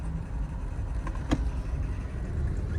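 Steady traffic rumbles along a congested service road in Bicutan, with passing car engines and a brief sharp click or knock standing out over the continuous road hum.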